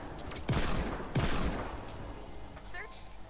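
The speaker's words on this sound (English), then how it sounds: "I'm using a power level 30 pistol, which is the highest level pistol I've got." Pistol fire in the video game Fortnite Save the World, with two loud sharp shots about half a second apart, followed by fainter game effects over a steady background bed.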